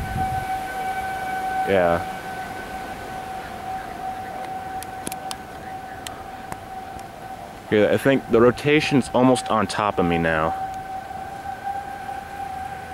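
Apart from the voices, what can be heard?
civil defense tornado warning sirens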